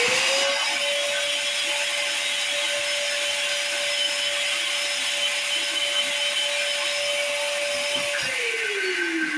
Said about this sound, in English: I'm gonna take this over to the vacuum and hit this